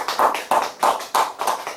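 A church congregation at a Sunday worship service claps together in a steady, rhythmic beat of loud, evenly spaced claps, with no talking.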